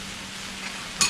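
Pastrami meat is stirred on a Blackstone griddle, with a soft sizzle and a single sharp scrape or clink of the spatula at the end.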